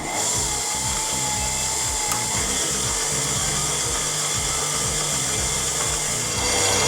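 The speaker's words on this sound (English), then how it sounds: "Now using a stand mixer or a hand mixer, we're going to mix this until the sugar is nice and dissolved within the oil." An electric stand or hand mixer beats brown sugar into oil for carrot cake batter, a loud, continuous motor whir with rapid rhythmic churning and scraping pulses throughout, close up and without talk.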